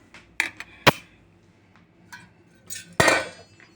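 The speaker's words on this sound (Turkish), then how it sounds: "Buradan karıştırıyorum." Spoon clinking and scraping against a pot while stirring warm milk for homemade yogurt, a few sharp metallic taps and one longer scrape spread across a quiet kitchen.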